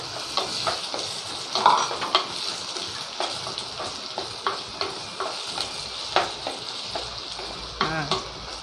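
Tomatoes fry in a mud pot of dry croaker fish gravy. A steady hiss of sizzling sits under frequent scraping stirs and soft knocks against the pot, heard close up with no voices.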